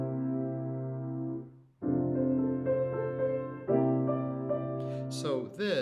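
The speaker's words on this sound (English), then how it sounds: "So there's one type of chord that we call a dominant seventh." Piano sounding a dominant seventh chord, struck and held with sustained harmonic tones, then restruck twice more in close succession before a brighter, higher voicing near the end; clear and moderately loud with no talking.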